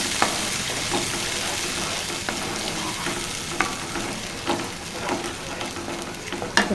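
Masala curry with a splash of added water is stirred in a pan over a lowered gas flame: a steady sizzle and bubble of frying is punctuated by regular scraping taps of the spoon against the pan.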